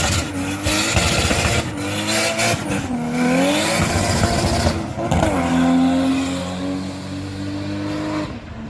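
A turbocharged inline-six engine in a 1990s Toyota Supra Mk III with a 5-speed manual pulls hard under acceleration, rising in pitch through two gears with a brief dip at the shift, loud and close with no talk.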